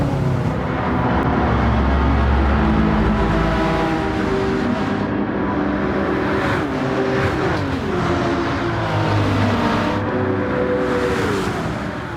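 A Nissan race car engine in Gran Turismo 7 screams at high revs, climbing through gears with repeated rising pitch sweeps and brief dips at each shift, loud and close for the whole stretch.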